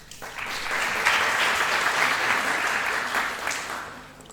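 An audience at an academic panel applauds opening remarks, a full, even burst of clapping that swells quickly, holds steady, then tapers off at the end.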